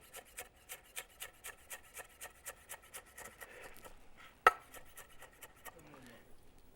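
A knife slices vegetable julienne strips on a cutting board in a kitchen, a quiet regular series of about fifteen crisp chopping taps, then softer scraping and one sharper knock near the end.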